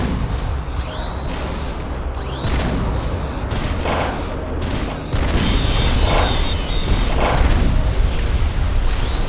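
Artillery fires in the mobile strategy game Battlecruisers, with repeated booming shots and crackling barrages layered over continuous battle noise, loud and dense throughout.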